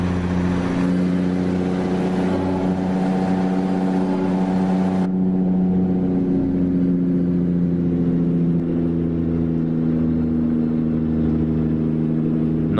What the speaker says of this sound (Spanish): Que bien se escucha este motor. Una potencia impresionante.